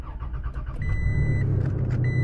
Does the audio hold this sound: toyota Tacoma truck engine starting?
yes